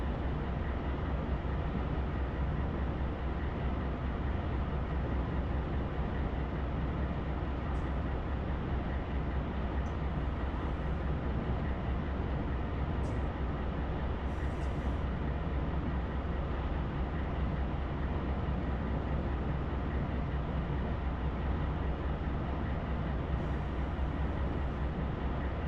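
A freight train loaded with containers rumbles steadily in Run 8 Train Simulator, a dense, constant roar of wheels and engine with a few faint metallic clicks, continuous and unbroken throughout.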